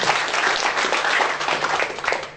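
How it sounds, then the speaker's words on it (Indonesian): An audience at a conference in Yogyakarta breaks into steady, dense applause, loud and close throughout, with many hands clapping together and no clear break. "Tepuk tangan untuk beliau."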